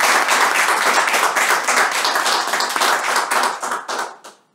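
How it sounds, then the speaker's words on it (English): Audience applause at a small-business check presentation, a close, lively burst of clapping with distinct individual claps that tapers off and stops. "Please join me in a round of applause for TRUIST"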